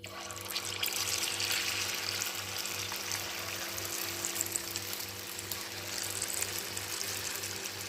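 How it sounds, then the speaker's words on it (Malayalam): Unniyappam batter, made without rice flour, sizzles in hot coconut oil in a continuous, even frying hiss, with a low rhythmic hum underneath and no talking. "വെളിച്ചെണ്ണയാണ് എടുത്തത് എണ്ണ ചൂടായിട്ടുണ്ട്"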